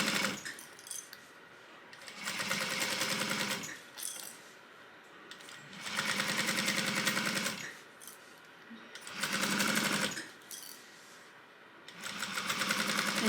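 A sewing machine back stitches a seam on a crossbody bag, running in four sustained bursts of steady whirring, each about one to two seconds long, with quiet pauses between them.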